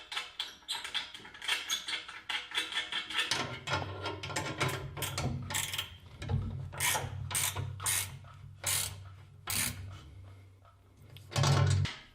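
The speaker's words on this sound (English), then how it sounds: "we can thread our bolts back in. And we will thread them back down the same way we pull them out" A hand ratchet threads table saw bolts back in, giving repeated sharp clicking bursts close by, with a low hum underneath during the middle stretch.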